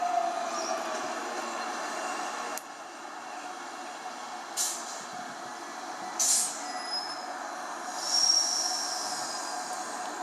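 Simulated train in the Trainz railroad game rolls along with a steady low rumble, punctuated by several short bursts of squealing wheels and hissing brakes at intervals.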